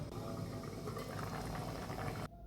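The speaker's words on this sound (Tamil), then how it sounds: "அது நல்லா கொதிக்கட்டும்." Steady bubbling and simmering of rajma gravy in a covered pot, a continuous dense burble that cuts off near the end.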